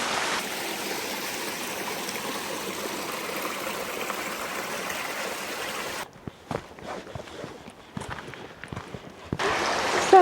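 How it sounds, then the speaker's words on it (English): A waterfall on a wild mountain camping route in the Mournes, heard as a steady broadband rush of falling water for about six seconds, then cut off by closer rustling and handling noise before the roar returns. "here's a waterfall."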